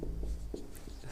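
Pen writing by hand on paper, a few soft scratchy strokes in short bursts, quiet and close.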